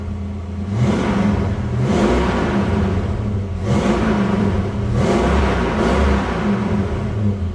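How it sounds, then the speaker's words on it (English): A near-stock 1965 Mustang GT convertible clone idles with a deep rumble, then its engine is revved four times in a steady rhythm, each rise swelling and falling back, loud and close with no talking. "Give it a few more revs here."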